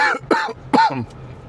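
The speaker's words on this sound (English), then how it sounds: "This cough, man." A person coughs three times in a quick, close, throaty burst, then falls quiet.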